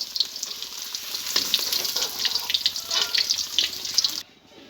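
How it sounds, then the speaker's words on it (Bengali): Paneer pieces frying in oil, a dense crackling sizzle with bursts of spitting that runs steadily and then cuts off abruptly near the end. "বাকি পনিরগুলো আমি ভেজে নিচ্ছি।"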